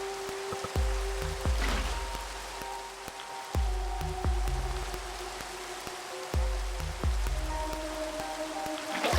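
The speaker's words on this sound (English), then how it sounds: "Make ourselves a little homemade waterfall here." Water poured from a bucket in Minecraft runs as a steady splashing stream like a small waterfall, with repeating bursts of rushing flow and no talking.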